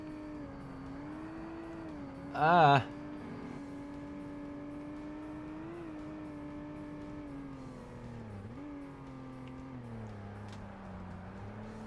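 A car engine races in Forza Motorsport, humming at a steady pitch that rises and dips with gear changes, with one short vocal exclamation early on.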